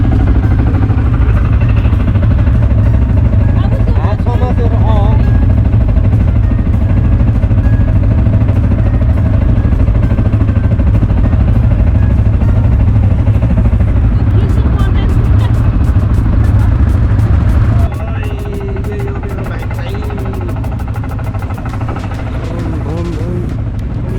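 A motorcycle engine runs close by in Brisbane with a loud, steady rumble that eases slightly partway through, while people talk over it.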